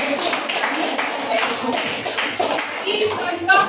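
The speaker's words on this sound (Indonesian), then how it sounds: "Tepuk tangan." Students in an Indonesian classroom clapping their hands together during a social studies lesson, a rhythmic burst of close, fairly loud claps from a small group, with voices mixed in.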